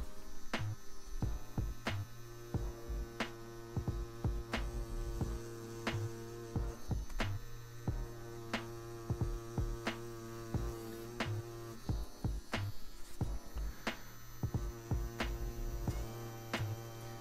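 A Mast Archer rotary tattoo pen runs on fake skin while drawing small lines, a steady low electric hum under a string of sharp, regularly spaced ticks and taps, fairly quiet and close.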